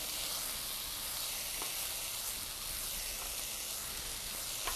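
Mushrooms frying in a pan over low heat give a steady, close, moderately loud sizzle with fine crackle throughout and no talking.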